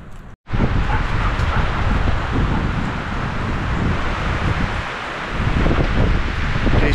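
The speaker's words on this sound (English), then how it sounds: "it is super windy today." Strong wind roaring and gusting around the microphone, with rustling through pine trees, a loud continuous buffeting that briefly drops out at the start.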